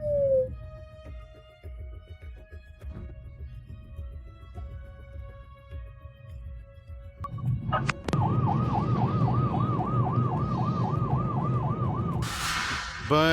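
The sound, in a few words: ambulance siren in traffic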